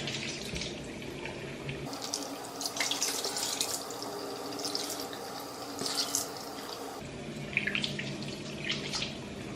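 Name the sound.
water running from a tap while washing face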